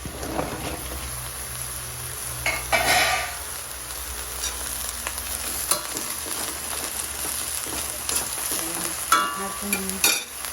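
Crab and vegetables fry in a pan, giving a steady sizzle that runs through the whole clip, with intermittent scraping and clinking as the mixture is stirred with a utensil.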